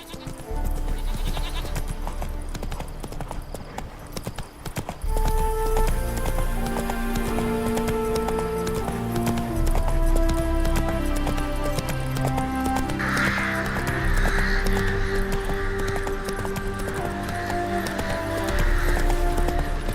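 Roach, the horse in The Witcher 3, gallops with a steady rhythmic clatter of hooves beneath loud, continuous game music.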